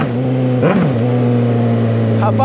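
A Suzuki GSX 750 motorcycle engine runs close by with a steady low hum and one quick throttle blip early on. Its smooth drone holds to the end, with a faint second rise just before it stops.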